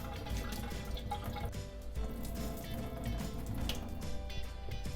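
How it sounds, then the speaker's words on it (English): Tap water pours steadily into a pot of washed rice while making Uzbek plov, a quiet continuous splashing and trickling close by with no pauses and no talk. "now we just fill it up with enough water to cover the rice"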